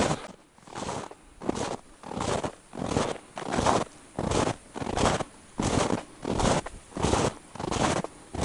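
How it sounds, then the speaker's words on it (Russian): Footsteps crunching on crusted snow during a winter forest hunt, about a dozen regular, evenly paced crunches close by, with no talk. "Очень сильно хрустит под ногами."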